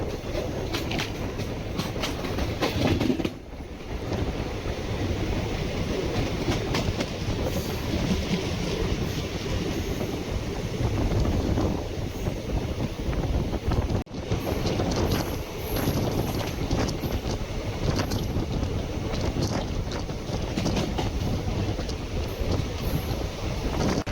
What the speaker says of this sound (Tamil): one 2625 Kerala express Thiruvananthapuram central to new Delhi